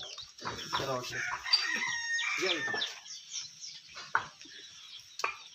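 A free-range village hen clucks and squawks close by in drawn-out, rising calls, then trails off into a few short, scattered clucks.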